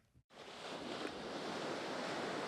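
Pacific Ocean waves at a Trinidad beach make a steady, fairly soft roar of surf with wind noise, starting after a short quiet moment.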